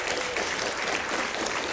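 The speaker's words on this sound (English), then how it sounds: "Let's give God a hand clap." A church congregation at a retreat service claps together in a dense, even burst of applause, loud and continuous with no talk.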